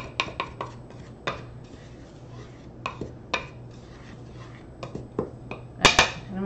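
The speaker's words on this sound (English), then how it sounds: "we're just going to stir that up" Spoon stirring carrot cake batter in a bowl, giving scattered sharp clinks and taps against the bowl at an irregular pace, fairly close, with a louder double clatter near the end.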